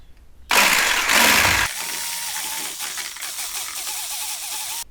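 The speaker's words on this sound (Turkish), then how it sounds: "Daha sonra mikser yardımıyla bunu çırpmaya başlıyorum" An electric mixer whipping cream whirs loudly to life, then settles into a steady, high mechanical whine that runs on until it cuts off.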